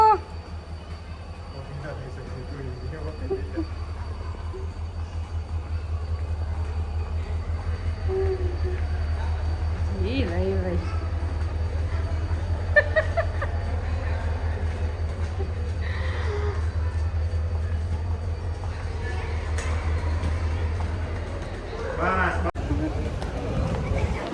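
A train rumbling at a railway station, a loud, steady low drone that runs almost the whole way before cutting off near the end, with people talking over it.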